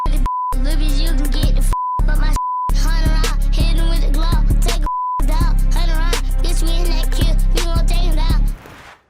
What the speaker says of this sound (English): I'm pretty sure it was just beep, beep, beep, beep, beep, beep, beep, beep, beep, beep, beep